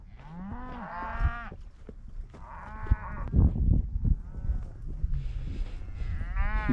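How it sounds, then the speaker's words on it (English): Cattle moo repeatedly during an outdoor gathering, several long lowing calls from different animals overlapping over a mix of hoof and movement noise. "Cattle handle pretty good."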